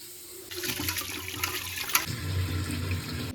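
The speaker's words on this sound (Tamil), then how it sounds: "பச்சரிசி ஃபஸ்ட்டு நான் வந்து இதில் அரிசி கொட்டி கழுவிக்கலாம்" One tumbler of raw white rice (pachcharisi) being washed in a vessel of water, with a steady rush of running, splashing water that swells partway through and carries on to the end, close and fairly loud, with no talking.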